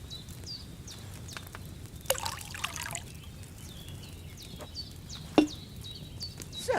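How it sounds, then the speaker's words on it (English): Liquid poured from a pitcher into a cauldron during an alchemy scene in Kingdom Come: Deliverance II, a faint steady trickle under quiet ambience with a couple of sharper clinks and splashes. "First, you have to pour the right base into the cauldron."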